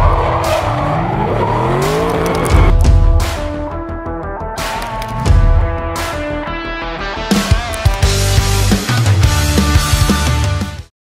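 A pink drift car screams toward the finish line, its engine revving hard in repeated surges while the tires squeal and skid loudly and close, ending in a sudden cut.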